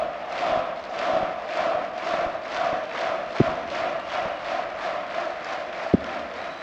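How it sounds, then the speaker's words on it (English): A darts-match crowd in an arena, a steady rhythmic roar of chanting and cheering that pulses in waves, with a couple of sharp thuds cutting through near the end. "the crowd 60. are gripped by this match, and there's bursts of encouragement for Max Hopp"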